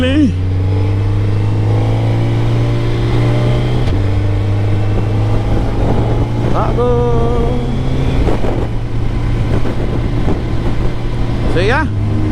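Kawasaki H2 sportbike engine idling with a steady low hum and a few brief revs rising and falling, close and loud, with people talking over it.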